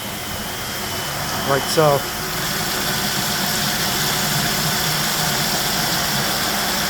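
A pump kicks on to circulate cleaning solution through hoses and fill valves, settling into a steady, loud mechanical hum after a brief burst; a short spoken phrase comes just before it starts.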